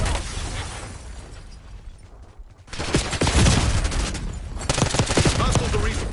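Semtex grenade explosion in Call of Duty Black Ops 6, a heavy blast breaking after a brief lull and followed by a rapid, rumbling fusillade of gunfire that continues loudly to the end.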